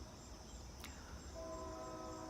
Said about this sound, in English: Wow, that train is just tooting.